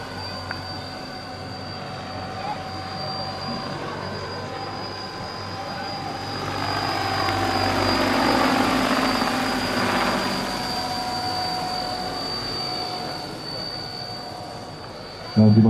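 A radio-controlled tandem-rotor Chinook model helicopter's rotors whir steadily at a distance, growing louder midway as it passes closer, over outdoor crowd noise and a high engine whine.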